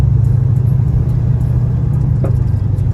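A 1979 Chevy Monte Carlo is heard from inside the cabin as it drives on the road, giving a steady, loud low engine and road rumble with a few faint ticks and no talking.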